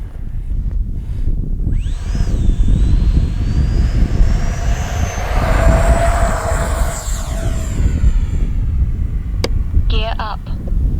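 An FMS Avanti S 70mm RC electric ducted-fan jet whines loudly on its maiden takeoff, pitch climbing sharply then holding steady as it speeds away over constant wind noise.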